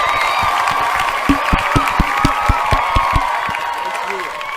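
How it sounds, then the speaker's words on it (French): A studio audience claps and cheers to welcome an expert guest, a steady patter of hands with some whoops, fairly close and continuous for a few seconds. "On l'applaudit."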